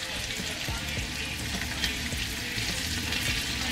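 Button mushrooms fry in a pan with pork chop, giving a steady, close, busy sizzle with scattered crackles and pops throughout.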